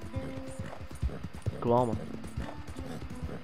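Horse hooves clop in rhythmic beats in the open-world video game Red Dead Redemption 2, running under a voice.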